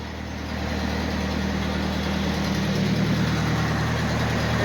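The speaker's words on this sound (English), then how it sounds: "the tractor can start in 15 degrees" A tractor engine idles in a cold garage at about 15 degrees, a steady low diesel-like rumble that holds constant and fairly loud throughout.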